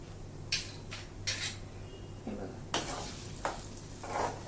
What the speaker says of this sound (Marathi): हा सगळा मसाला मी याच्यामध्ये हलकासा परतून घेणार